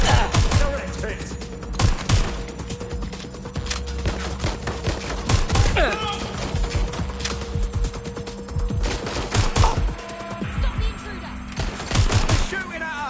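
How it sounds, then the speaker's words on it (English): Watch Dogs Legion gunfire: sustained bursts and sharp single shots, loud and close, keep going with short pauses. Voices shout over the shooting. "Shooting at us! Taking cover!"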